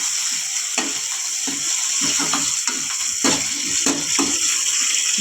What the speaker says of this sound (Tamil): வச்சு வதக்கிடுவோம்.